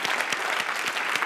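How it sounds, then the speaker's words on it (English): An audience in a conference hall claps loudly and densely, a close, steady burst of applause that lasts the whole short moment without pause. "Would you give him a big round of applause"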